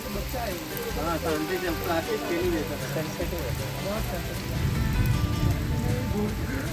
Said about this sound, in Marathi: खतरनाक पाऊस आहे